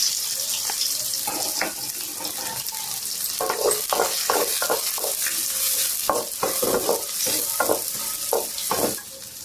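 Onions fry in hot oil in a kadai, a steady sizzle broken by repeated scraping and stirring strokes of a utensil against the pan.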